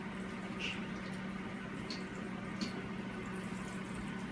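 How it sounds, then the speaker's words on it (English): Water from a garden hose or tap, turned on low, runs steadily onto a tray of wheatgrass seeds, making a soft continuous splashing and trickling with no talk over it. "I just turn the water on like this a little bit"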